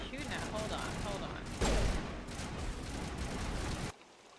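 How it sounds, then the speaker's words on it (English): Rapid gunfire in Mass Effect Legendary Edition, a dense continuous rattle of shots with one sharper burst in the middle, ending abruptly. "Oh, I'll shoot now."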